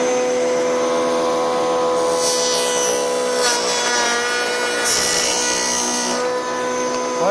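Homemade router table cuts into wood with a high, steady motor whine and a louder rasping burst as each of two cuts is made, close and continuous.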